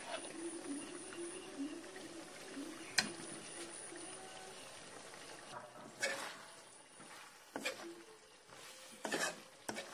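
Meat cooks in a pan as sesame seeds are stirred in, a low frying hiss broken by scraping stirs and several sharp louder rasps of a spoon against the pan.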